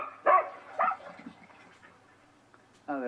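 Dogs bark in short, sharp bursts, with two yips close together early on and another bark at the end, separated by quieter whimpers and a muffled voice.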